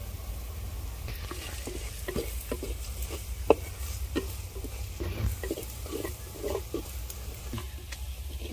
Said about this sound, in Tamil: இந்த வத்தத்தூள் மணம் மாறும் வரைக்கும் நம்ம லேசாக வதக்கிக்கிறணும்